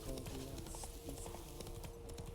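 Hooves clip-clop in a steady galloping rhythm as Geralt's horse Roach runs in The Witcher 3, faint and continuous under game ambience, with no voices.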